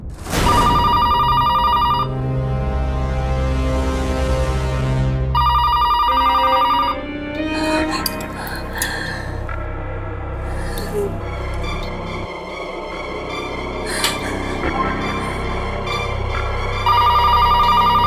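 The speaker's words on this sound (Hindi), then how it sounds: "कब से तुम्हारा फोन ट्राई कर रहा हूं, तुम फोन क्यों नहीं उठा रहे?" An old-style telephone bell rings in repeated loud bursts, broken by stretches of dramatic music and sound effects, then rings again at the end, with no one picking up.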